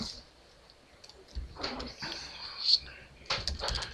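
Typing on a computer keyboard, entering contact details into an online registration form for an association, with soft clustered key clicks in short bursts under a man's speech.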